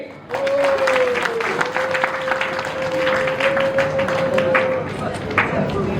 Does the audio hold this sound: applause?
yes